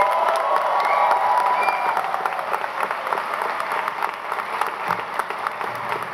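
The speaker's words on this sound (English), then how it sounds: "How about another giant round of applause for all of our graduates?" Sustained applause from a large audience for graduates at a graduation ceremony, dense steady clapping with some scattered cheers, loud and close, no talk over it.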